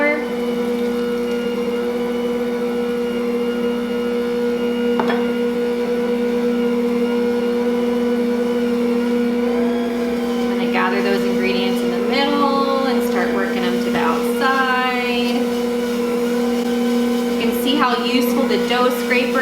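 An Ankarsrum stand mixer kneads bread dough with a steady, loud motor hum. Someone talks over it in the second half.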